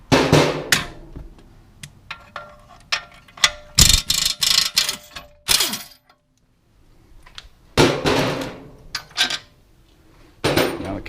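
Ratchet loosening the brake caliper bolts with a 21 on a VW Golf, close metallic clicking in quick bursts, with clanks of tools and parts between the strokes and a brief silence midway.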